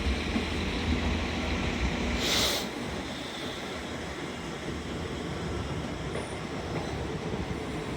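A Class 333 electric unit from Doncaster terminating at Leeds station, with a constant rumble of rolling wheels and a brief hissing burst early on, steady and fairly close, no speech.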